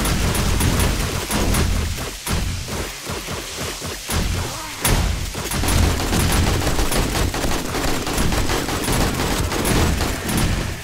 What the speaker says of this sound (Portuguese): Por que que esse aqui tá atirando?